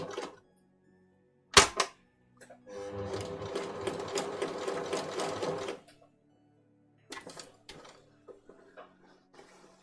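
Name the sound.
sewing machine stitching a kid's jacket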